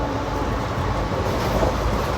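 Passenger train 54561 on the Bathinda–Firozpur line runs steadily as a continuous, even rumble of moving carriages, heard from close by with no talking.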